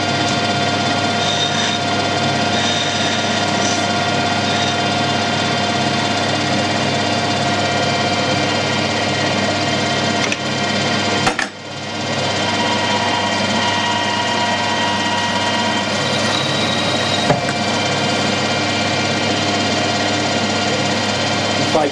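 A steady mechanical drone of a metal lathe facing a soft steel bar, running continuously with a brief dip midway, and a faint scraping cut layered over the motor hum.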